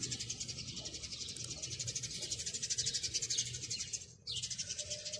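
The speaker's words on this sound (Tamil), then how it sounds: "சிட்டுக்குருவி கத்துது" A sparrow chirps in a mulberry tree in a garden in Saudi Arabia, giving rapid, repeated high tweets in a steady stream that breaks off briefly before resuming, fairly faint and close.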